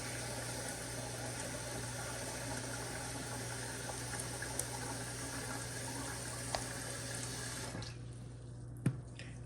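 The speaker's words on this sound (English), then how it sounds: "when I don't hear it dripping anymore" Juice drips and trickles through a strainer under a blender, a faint steady wet patter with a few small clicks, ending in near quiet.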